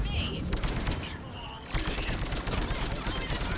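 Rapid, sustained gunfire from a firefight in the video game Mass Effect 3 Legendary Edition, with dense overlapping shots at a steady loud level, dipping briefly in the middle before resuming.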